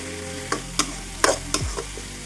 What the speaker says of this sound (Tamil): நான் வந்து கீரையை வந்து நல்லா மிக்ஸ் பண்ணி எடுத்துக்கிறேன்.